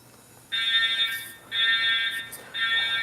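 A fire alarm going off after trouble with a sprinkler head, sounding in three loud, shrill electronic bursts of about a second each with short pauses between them, steady and near.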